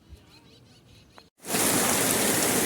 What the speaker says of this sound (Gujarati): આપણે વરસાદ ચાલુ થઈ ગયો છે તો બંબા ને બંબા વરસાદ આવવા માંડ્યો છે